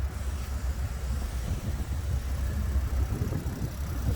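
A 2021 Hyundai Venue's engine idles with a low, steady rumble, quiet and even throughout with no talk.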